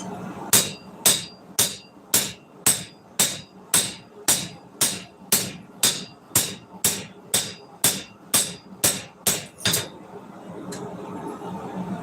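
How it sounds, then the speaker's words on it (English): A hammer planishing a rasp knife blade on an anvil rings out in a steady series of about eighteen sharp, evenly spaced metallic strikes, close and loud, then stops, leaving quiet shop ambience. "the hammer do the work."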